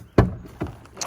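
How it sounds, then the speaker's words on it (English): Someone tugs on the jammed door of an abandoned Mitsubishi car, giving a sharp, heavy clunk followed by a second, softer knock a moment later, close up with no voices. "Ooh, that door's still jammed."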